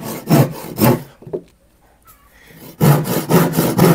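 Hand saw strokes rasping through wood, a steady back-and-forth rhythm of loud broadband bursts, pausing briefly midway before resuming.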